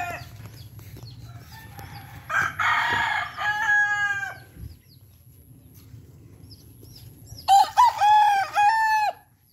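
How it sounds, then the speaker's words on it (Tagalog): Two loud crows from young roosters in open-air pens ring out close by, separated by a quiet stretch with low clucking and faint background hum. "Manok ko na open air."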